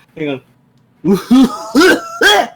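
A person bursts into several short throaty cough-laughs in quick succession, a voice imitating the sound of laughing and coughing at once, loud and close after one brief vocal sound.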